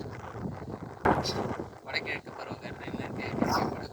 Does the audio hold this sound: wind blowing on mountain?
yes